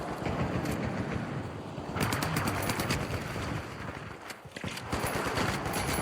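Gunfire in The Finals first-person shooter game: rapid automatic bursts and scattered shots crackle over a busy noisy background, fairly loud and continuous, with no talking.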